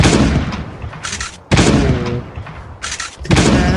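Shotgun blasts at close range in Last Day On Earth: Survival, three loud sharp booms spaced about a second and a half apart, each with a short decaying tail and no talking.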